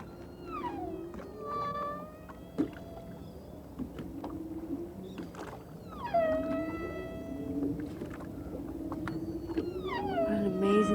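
Humpback whale song recorded underwater: long rising and falling moans and whistling upsweeps repeat over a steady hiss of water noise, fairly faint and distant, with no talking.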